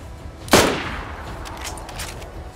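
A single sharp gunshot from the video game DayZ, played on a dangerous mountain map, cracks loudly once and trails off into a reverberant tail, with faint background game ambience afterward and no talk.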